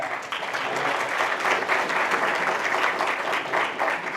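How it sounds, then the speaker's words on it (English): An audience at a conference gathering applauds steadily, a dense wash of many hands clapping at moderate distance with no breaks. "Give them a round of applause."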